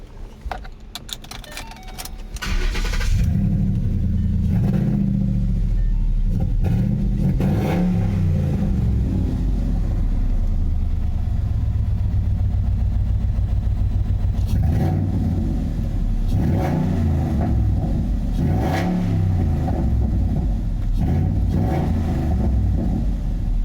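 A car engine revs as the gas pedal is tested, starting with a low idle rumble that swells into loud, sustained roars with rising and falling rev surges close by, and no talking.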